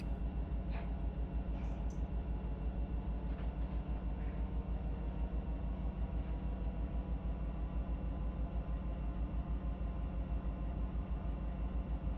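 Locomotives in the Run8 train simulator descending a grade under dynamic braking, a steady droning diesel rumble with a rhythmic low pulsing and a few faint higher squeals early on.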